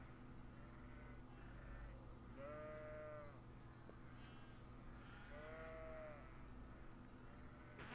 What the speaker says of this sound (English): I heard the sounds of a sheep.